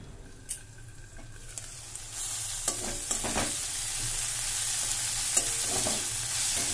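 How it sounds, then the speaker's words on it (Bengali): Vegetables sizzle steadily in a pan, with occasional scrapes and clicks of stirring; no talking. "সব সবজিগুলো ভাজা হয়ে গেছে"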